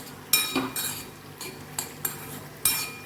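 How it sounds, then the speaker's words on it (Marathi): Pumpkin halwa mixture roasting in ghee in a pan, stirred with a metal spoon that scrapes and clinks against the pan in several distinct strokes, close and clear, with only a faint sizzle beneath. "याला आपण परत दोन मिनटं त्याच तुपामध्ये परतत आहोत"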